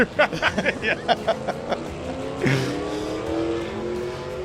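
Hot rod drag car making a pass at Drag Week, a burst of loud rhythmic revving pulses before a sharp gear change and a steady high engine roar pulling away, no talk over it.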